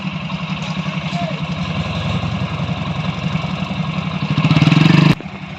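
A tractor engine idles with a steady, throbbing low chug, then revs up louder near the end before cutting off abruptly, recorded close by at a roadside stop.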